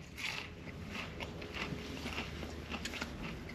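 Crunchy bites into a large salted fried onion ring while camping in a van in freezing cold, a series of close, crisp crackles and chewing crunches.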